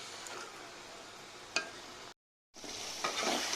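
Egg and potato curry cooking in a pan gives a quiet, steady sizzle and stirring with one sharp clack partway through. The sound cuts out briefly, then the frying noise returns slightly louder.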